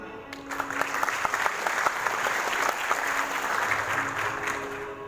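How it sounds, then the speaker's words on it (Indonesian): An audience at a community gathering applauds steadily, a dense continuous clapping lasting several seconds at moderate loudness. "Beri aplaus juga untuk tim-tim Satu Banten."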